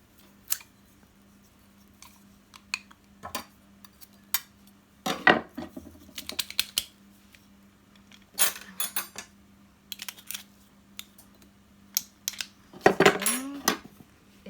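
Duck wings are snapped apart by hand while a Peking duck is prepared in a kitchen, giving a few sharp, close cracks and crunches spread out between quieter handling noises, with no talking.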